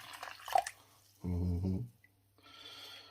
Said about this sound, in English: apple juice cooled down a bit, so what we're going to do is we're going to pour that into there